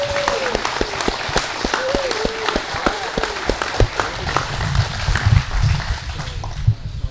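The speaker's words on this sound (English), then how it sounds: "Let's everybody give a round of applause to Dave and Deb for their amazing work" Audience applause for Dave and Deb Zucker of Spring Creek at a model railroading show, a steady round of clapping from a small crowd with a voice speaking over it partway through.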